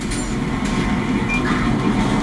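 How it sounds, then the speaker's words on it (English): Rumbling train in the video game GTA 5, a steady low rolling drone with a brief higher squeal, continuous and moderately loud with no talk. "let's get that train"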